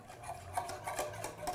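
A spoon scrapes and rubs around a saucepan while stirring a cocoa and cinnamon mixture, a quiet rhythmic rasp repeating roughly every fraction of a second, close up and alone.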